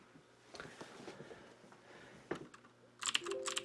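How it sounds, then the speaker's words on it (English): Keystrokes on a Gigabyte Cherry MX Blue mechanical keyboard patter in scattered soft presses, then turn into a fast, loud, clicky run near the end, close up over a faint electrical hum. "Cherry MX Blue keyboard from Gigabyte"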